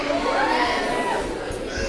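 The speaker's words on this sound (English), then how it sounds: "Please give him a big round of applause, ladies and gentlemen." A crowd at a first Holy Communion celebration cheers and shouts after a dance performance, with children's voices rising over a loud, steady wash of excited voices.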